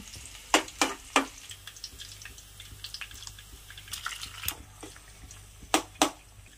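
Fried rice being cooked, with soft steady sizzling under sharp scattered clinks and scrapes of a utensil against the pan, close by and with no talk.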